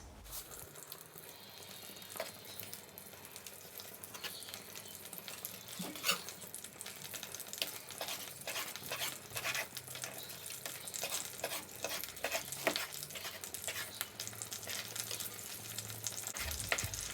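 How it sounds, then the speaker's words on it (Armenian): Small cubes of chicken breast frying in oil with a knob of butter in a pan, continuous spattering sizzle with frequent crackles and stirring clicks, close and fairly quiet throughout. "Հիմա կացայի մեջ լցնում եմ մի քիչ ձեթ և տապակելու եմ հավի կրծքամիսը փոքրիկ կտորների կտրատած"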